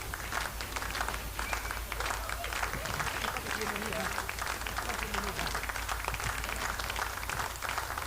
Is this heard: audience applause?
yes